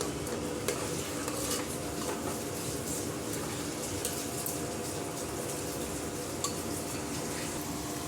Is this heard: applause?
no